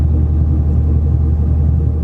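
Ford Mustang V8 idling through a straight-piped exhaust, a loud, steady deep rumble with a throbbing low-end pulse, close to the car and free of talk.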